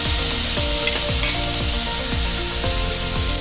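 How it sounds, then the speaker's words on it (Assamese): Kuchia eel pieces fry loudly in hot oil in a pan, a dense steady sizzle with repeated scraping stirs of a utensil at a regular pace, close and alone without talk. "এতিয়া মাছখিনি অলপ ফ্ৰাই কৰি লওঁ অকণমান ৰঙচুৱা হৈলৈকে মাছখিনি ফ্ৰাই কৰি লওঁ কুচিয়া মাছখিনি"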